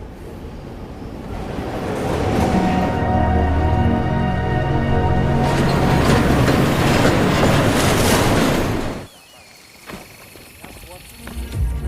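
A train ride in a film scene: loud, steady rumbling of rolling rail wagons with clickety-clack wheel noise, holding for about nine seconds before dropping abruptly to a quieter interior hum.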